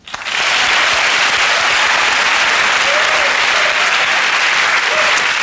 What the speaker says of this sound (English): Please join me in a round of applause for our people and their things.